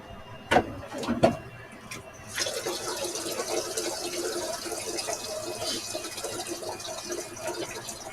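Water is poured into a dog's bowl indoors, a steady running splash that starts after a couple of sharp knocks and continues evenly to the end.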